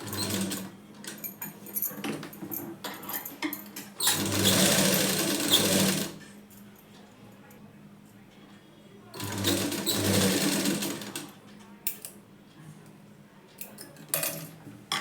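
A sewing machine stitches the back panel of a blouse in two loud, steady runs of rapid chattering, separated by a quieter stretch of light handling clatter.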